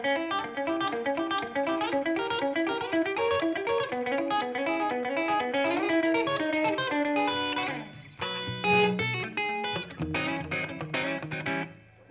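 Electric guitar picks a quick, repeating pattern of notes with effects, then shifts to ringing, sustained chords before fading out.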